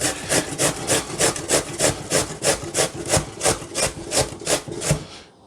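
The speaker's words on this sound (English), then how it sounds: "We're going to start by simply grating the potatoes" Yukon Gold potatoes are grated by hand, a close, rhythmic rasping with about a dozen even strokes back and forth in quick succession and no talk.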